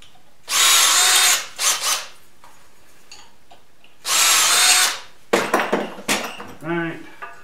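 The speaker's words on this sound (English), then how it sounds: "Other piece of material that I need to drill holes out," A power drill bores holes in material for a can crusher, with two loud, high-pitched whining bursts about a second long, each followed by a short trailing spin. Metallic clinks and handling clatter come after.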